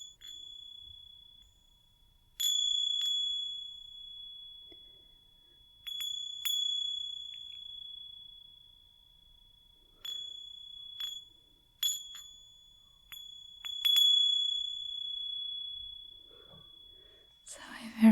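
A high, pure bell-like tone from a meditation instrument from Nepal is struck several times, each ring sustaining and slowly fading, with quiet breathy sounds between strikes.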